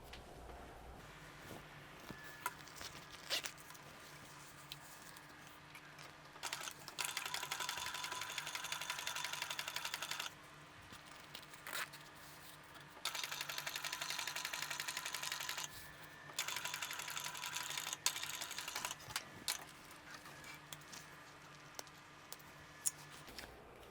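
A sewing machine stitches zipper tape onto the exterior front of a wristlet at a quarter-inch seam, running in three bursts of rapid, steady whirring and needle clatter with quiet pauses between, close and clear with no talking.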